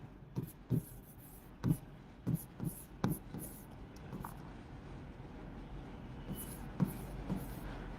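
Chalk or marker strokes tap and scrape on a board as a teacher writes out a BCD code, a series of short, fairly close bursts spread across the moment with pauses between them.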